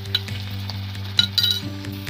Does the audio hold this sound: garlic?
yes